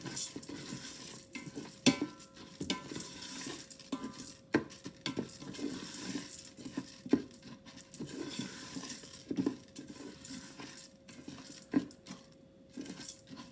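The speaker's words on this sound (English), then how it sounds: "Going to stir that around, let the oil coat the rice and let it gently fry a little bit." Rice gently fries in oil in an Instant Pot as it is stirred, a quiet patter of grains with repeated light scrapes and taps of a utensil against the pot, close and steady.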